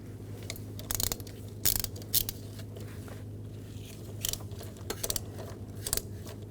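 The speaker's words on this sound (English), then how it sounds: "Using a 5mm hex socket. Take these bolts out." Ratchet wrench with a 5mm hex socket removing bolts on a 2004-2009 Audi A4 Quattro 2.0L during turbocharger and exhaust manifold work, a few short clicking bursts spaced irregularly over a low steady hum.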